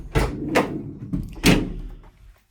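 Rear doors of a 2019 Renault Kangoo Z.E. electric van being handled, giving several loud, close metallic thumps and clunks spaced across a couple of seconds, with no talking.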